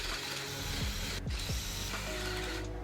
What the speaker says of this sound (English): then you just drill down to that spot